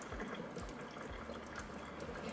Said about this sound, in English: rinse my hand off, rinse the brush off